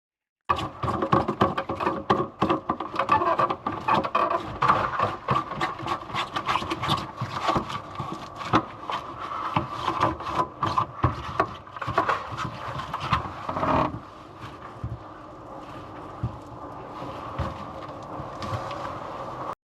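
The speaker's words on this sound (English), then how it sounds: "I'm going to get the trap back on" A sink drain trap being refitted, with continuous scraping, rubbing and clunking of plastic pipe parts, close and steady for about twenty seconds, with no talking.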